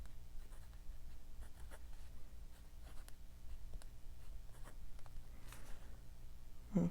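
A fine-nib fountain pen with a somewhat stiff nib scratches across paper in quiet, intermittent strokes, faint and close, with no talking.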